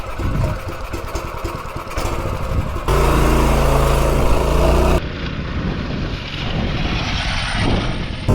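A small Kohler CH270 engine powers a mini bike on a ride, its buzzing drone loud and steady with a sharp shift in pitch and tone partway through as the bike picks up speed.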